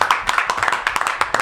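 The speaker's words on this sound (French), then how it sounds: "Et ça s'applaudit." A few people clap on a talk show, a short, close burst of uneven hand claps with no voices.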